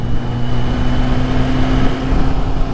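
Kawasaki Z800 motorcycle engine while riding along a highway, a steady loud droning hum with a constant tone and rushing wind noise, close and continuous with no talking.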